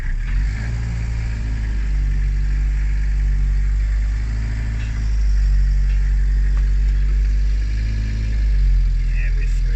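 Car engine droning steadily while driving through a corner in first gear, a low continuous hum with slight swells in pitch, heard from inside the cabin under constant road noise.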